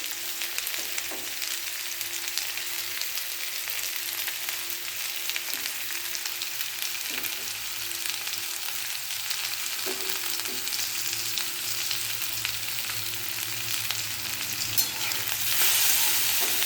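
Continuous hissing sizzle of food frying in a pan with salt and turmeric, with occasional soft stirring scrapes and a slightly louder stretch near the end, and no voices.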